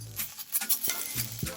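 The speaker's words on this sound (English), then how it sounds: "curry paste goes in, just a little oil, just give it a quick toss." Thai green curry paste hits a little oil in a wok and gets a quick toss, giving soft sizzling with a few stirring scrapes and clatters, close and fairly quiet.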